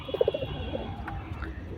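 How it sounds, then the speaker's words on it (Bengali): Domestic pigeons coo in a few soft, low bursts early on, close by, followed by a quieter single coo, with no talking. "তার আগে আমি আমার কবুতরগুলো দেখিয়ে দিই তোমাদেরকে কি অবস্থা এখন।"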